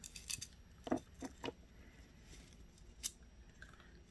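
Necklace chain cut with small snips, a few sharp metallic clicks spaced irregularly at close range, with soft handling rustle between them.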